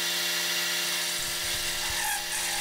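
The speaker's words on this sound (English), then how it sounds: "So then just using the dials on the lathe, I just cut the grooves." A Harbor Freight lathe cuts grooves into metal, giving a steady high whirring motor hum with a faint scraping cut, continuous and close, without talk.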